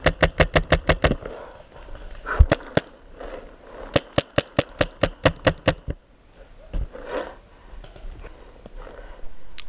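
Paintball guns fire in rapid bursts of sharp, close pops on an outdoor field, with a few isolated single shots and quieter rustling between volleys.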